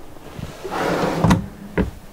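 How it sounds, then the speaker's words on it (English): A soft-close drawer in a Rockwood 8312SS travel trailer RV slides shut with a smooth rolling swish, then two soft thuds as it settles, close and fairly quiet. "And those also do kind of self-close or soft-close drawer."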